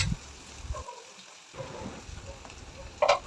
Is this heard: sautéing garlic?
yes